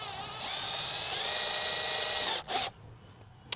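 A power drill bores holes into the plastic case of a Saregama Carvaan player, a steady high whine for over two seconds, then stopping with a brief second burst and a small click, close and fairly quiet.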